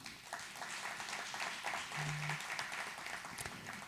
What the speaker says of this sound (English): please, everybody, give yourselves a round of applause.